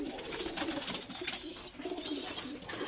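A red-eyed teddy pigeon coos close by with a soft, low, repeated throaty murmur over a hissy background, with no talking.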